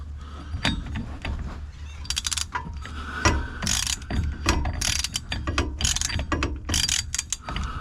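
Ratcheting clicks and metallic turning as an axle nut is tightened by hand on the rear axle of a Holden VY ute during bearing and bush replacement, close and uneven in short bursts, with no talking.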